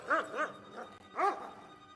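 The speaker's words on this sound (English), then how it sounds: "I gotta deal with dogs." Dogs in Kingdom Come: Deliverance II bark close by: two quick sharp barks, then a pause and a third louder bark, with faint background ambience and no talking.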